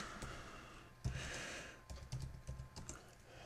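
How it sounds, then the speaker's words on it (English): Computer keyboard being typed on while setting up a Raspberry Pi, with quiet, irregular keystrokes clicking in quick clusters close to the microphone. "if I can type on the right screen here"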